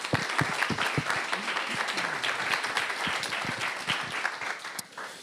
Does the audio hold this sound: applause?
yes